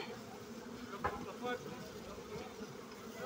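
Honeybees buzz around an open beehive during an autumn check of honey stores and brood, a soft continuous hum with a few brief knocks and handling noises close by.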